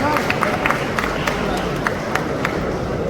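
Audience applause at a Haryana political event honoring UPSC achievers: dense, sustained crowd clapping with some scattered louder claps, steady and fairly close throughout.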